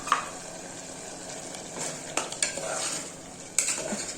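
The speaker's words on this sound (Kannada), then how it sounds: "ತರಕಾರಿ ಎಲ್ಲ ಚೆನ್ನಾಗಿ ಫ್ರೈ ಆಗಿದೆ" Mixed vegetables fry with ground coconut and clove masala for vegetable pulao, a steady close sizzle with a few spatula scrapes against the pan.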